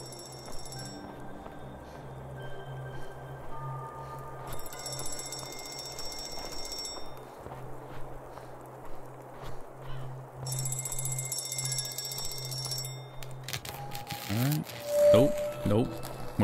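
A payphone rings in a video game with repeated electronic bell bursts, loud and close, set against a steady low game hum, with a voice talking over parts of it.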